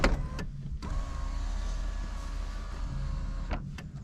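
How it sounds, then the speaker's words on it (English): An electric sunroof motor on a turbocharged 500bhp Honda Civic EG whirs steadily for several seconds at close range, bracketed by brief clicks at the start and end, with no talking. "The sunroof. It's amazing. Look at this sunroof!"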